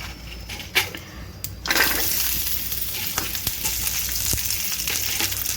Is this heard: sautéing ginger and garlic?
yes